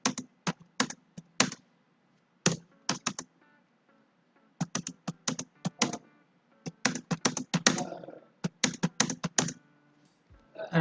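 Values being entered on a computer keyboard: crisp keystrokes come in quick clusters separated by short pauses, close and clear, with no talking.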